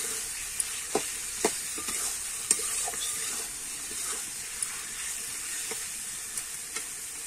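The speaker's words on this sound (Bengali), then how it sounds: "এবারে আগে থেকে ভেজে রাখা আলুটা দিয়ে দেব। দিয়ে কিন্তু আমি একটু ভালো করে কষিয়ে নেব।" Pre-fried potatoes are stirred into a spiced masala for aloo fulkopi, giving a steady close sizzle with several sharp spatula scrapes and clacks spread through it and no talking.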